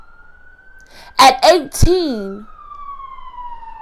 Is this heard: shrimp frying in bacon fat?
no